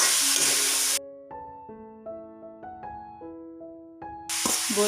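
A single bay leaf dropped into hot oil for an Assamese banana flower and egg dish sizzles loudly in a dense hiss at the start. Melodic background music fills the middle, and the sizzle returns at the end.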